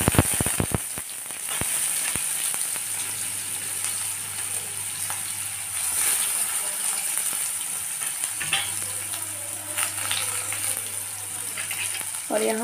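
Onions and turmeric sizzle in hot oil in a home kitchen pan, a steady frying hiss with occasional stirring clinks, close and moderately loud throughout.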